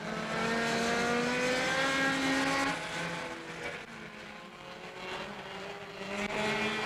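Pure stock race cars roar around a dirt-track oval in a continuous loud engine drone, rising and falling as cars pass, with no voices heard.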